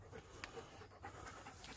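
A dog pants quickly and softly in a cave, the rapid rhythmic breaths close by but faint in the quiet underground space, with no voices over it.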